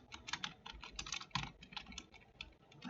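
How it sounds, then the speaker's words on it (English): Fast, steady typing on a computer keyboard, with a quick run of light clicking keystrokes heard faintly and close, with no talk over it. "excuse the typing here"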